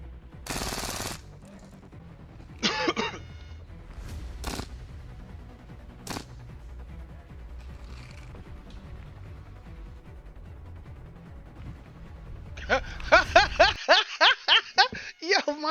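Video game gunfire: a loud early burst, a few scattered single shots, then a rapid automatic volley near the end, with low background sound between.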